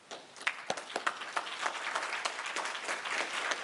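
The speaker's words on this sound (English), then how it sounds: "I want to take this time on behalf of G. Davis Production to applaud Thomas Farrington and his wife" Audience applause at a prostate health education summit, a steady wash of many hands clapping heard from within the crowd and sustained throughout without speech.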